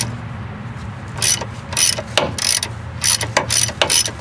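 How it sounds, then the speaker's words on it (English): A broken ratchet wrench clicks in short, loud bursts of rapid ratcheting, close up, with brief pauses between each run, during fuel filler neck work on a rusty 2002 Mitsubishi Lancer. "Ratchet just broke. Listen to that."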